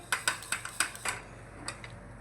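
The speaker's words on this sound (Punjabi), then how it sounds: "ਆਪਾਂ ਲਗਾਤਾਰ ਜੀ 2 ਮਿੰਟ ਕੁੱਕਰ ਨੂੰ ਹਿਲਾਉਂਦੇ ਰਵਾਂਗੇ" Black chickpeas rattle inside a closed pressure cooker being shaken, sharp repeated clattering bursts about every quarter second, then fading to a single later rattle.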